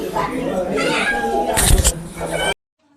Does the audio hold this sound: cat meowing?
yes